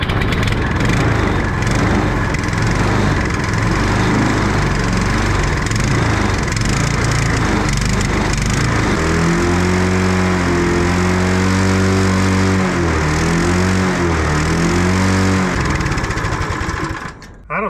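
A small engine on a homemade kid's snowmobile runs loud and close, rough and steady at first, then revs rise and fall in uneven surges as the clutches are tested, before it drops away at the end.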